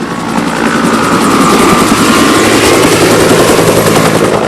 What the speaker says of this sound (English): several helicopters have been used to fight the fires throughout the county all day long